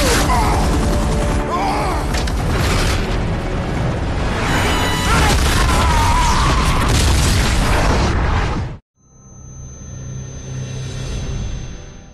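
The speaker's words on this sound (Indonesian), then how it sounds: "Setelah ledakan itu" A loud explosion booms amid dense crashing, clattering action noise, then it cuts abruptly to near silence followed by a low rumbling aftermath.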